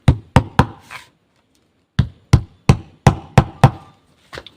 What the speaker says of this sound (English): So I'm just going to place this on top of my plank and hit it with my hammer